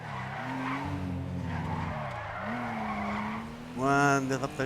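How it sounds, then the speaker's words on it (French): Video game car skidding with a tire squeal, a sustained sliding engine-like whine running steadily through the clip, then a louder harsh squeal near the end, with a voice appearing briefly. "Ouah, dérapage de ouf."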